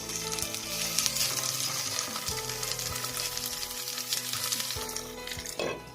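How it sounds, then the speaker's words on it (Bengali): Taro leaf with hilsa sizzles steadily in hot mustard oil in a wok on a gas stove, a loud continuous frying hiss broken by a few light metallic clinks. "এবার দেবো সর্ষের তেল এবার আমি কচুর পাতাটা বসিয়ে দেবো"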